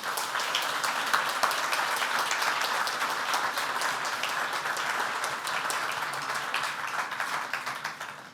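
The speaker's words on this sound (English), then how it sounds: "Let's give a round of applause for Thibaut and Louis." Sustained audience applause fills a hall after a question-and-answer session at an AI conference talk, with dense, even clapping throughout at a fairly constant level and no speech over it.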